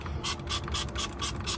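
Spray bottle of plain water misting the dry corners of a Texas brisket cooked on an offset smoker, a series of about six short, hissy bursts in a steady rhythm, close by with no talking.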